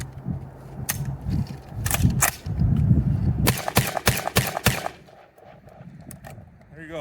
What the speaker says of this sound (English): There you go, 5 fast shots.